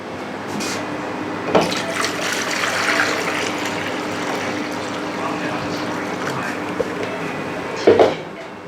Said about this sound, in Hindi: ये इसमें मैंने पानी डाल दिया।